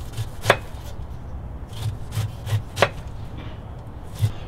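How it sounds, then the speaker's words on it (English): A knife cutting the skin off a pineapple on a board, several distinct crunchy chops at an uneven pace, close and fairly clear. "Next, I'm going to cut the skin off."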